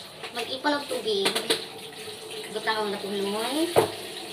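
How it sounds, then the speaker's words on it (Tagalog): Water runs from a household tap at a staffhouse to fill a container, a steady broadband splash continuing throughout, with a voice talking and calling over the flow. "Mag-ipon ng tubig."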